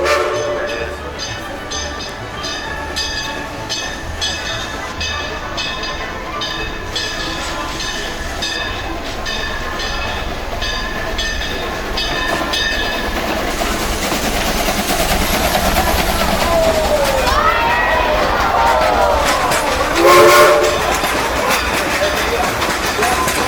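A train rumbles past at the Fire in the Hole ride in Branson, a steady loud rolling roar of wheels with clicking rail joints, and near the end a whistle sounds while the cars keep going by.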